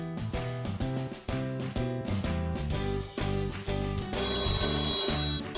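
Telephone ringing in a store setting, repeated electronic ring bursts over a steady musical backing, fairly loud and continuous, with no voices.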